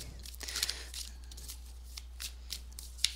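Soft, rapid riffling of tarot cards being shuffled close by, with a few crisp snaps standing out against quiet room hiss.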